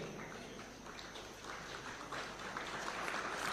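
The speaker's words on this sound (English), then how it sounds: "A round of applause kindly, ladies and gentlemen, as they receive their awards." Applause at an awards ceremony on Taxpayers' Day at State House, Nairobi, as winners receive their awards: a dense, steady wash of clapping from a large audience, continuous and moderately loud for a few seconds.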